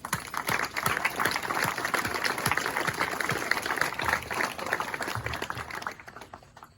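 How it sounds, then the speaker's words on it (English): A crowd at a dedication and ribbon-cutting for the new Staudenemeier Station at the Pioneer Tunnel claps warmly for about six seconds. The dense patter of hands stays steady, then thins out and fades. "They all deserve a round of applause."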